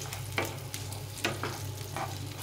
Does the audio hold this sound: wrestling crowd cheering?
no